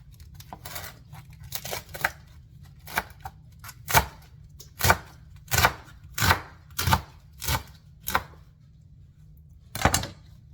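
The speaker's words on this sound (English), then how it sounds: "I'm just going to roll this up and cut it." A knife chops through a rolled-up cabbage on a cutting board for cabbage steaks, about a dozen crisp, close cuts in a steady rhythm, each with a dull board thud, then a pause before one last chop.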